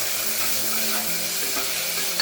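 Cashews and raisins being stirred as they fry in ghee, giving a steady bright sizzle with soft spoon scrapes and light clinks throughout.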